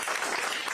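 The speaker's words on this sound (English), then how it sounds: "Give yourselves a round of applause." A live audience at a political town hall applauds continuously, a dense, steady wash of many hands clapping at an even level with no pauses.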